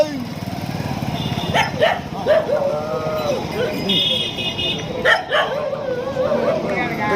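A dog barks and yips repeatedly at close range amid outdoor commotion and a droning engine-like hum, with people talking throughout.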